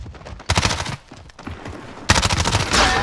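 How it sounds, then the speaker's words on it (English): Rapid automatic gunfire in a first-person shooter game comes in loud, dense bursts, with a short pause between volleys and the shooting resuming near the end. "Stop shooting at me."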